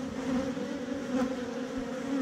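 A steady, close drone of honey bees buzzing in a queenless hive, many insects humming together at an even pitch.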